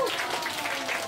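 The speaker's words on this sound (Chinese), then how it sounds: "来，掌声鼓一下吧。" An audience at a science magic show breaks into applause, a brief, fairly soft patter of many hands clapping continuously for about a second.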